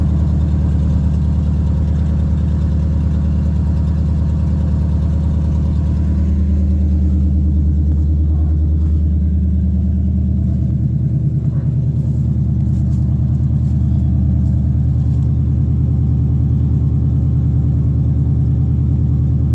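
A 1984 Chevrolet C10 truck engine idles after a cold start on a December day, a steady loud low rumble that holds throughout with a slight shift in tone midway.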